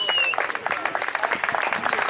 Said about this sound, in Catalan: Eixe aplaudiment.